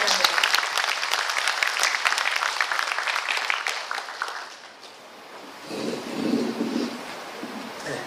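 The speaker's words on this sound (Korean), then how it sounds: "박수로 환영해 주시기 바랍니다." An auditorium audience at a regional government briefing in Yeongwol's arts centre claps loudly to welcome a speaker, dense applause fading after about four seconds, then a brief murmur and voices follow.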